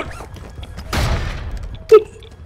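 Gunfire in the DMZ video game: a dense burst of shots around the middle, then a single sharp report near the end, over a low rumbling game backdrop.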